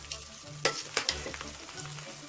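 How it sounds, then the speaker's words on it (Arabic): A spoon stirs vermicelli and spaghetti frying in oil in a pot, making soft sizzling under a few sharp scrapes and clinks. The sound is close but fairly quiet. "بقى دي تقليبه محترمه كده علشان كله يتغلي بالزيت ويبقى مفلفل معانا في الاخر."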